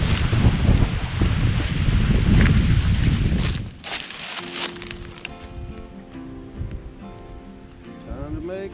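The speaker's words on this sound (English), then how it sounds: "Hopefully this wind will die down tomorrow and we won't have to put up with any of this." Gusty wind buffets the microphone at a fall campsite, a loud rushing roar for several seconds that suddenly drops away, leaving quieter rustling and faint tonal sounds.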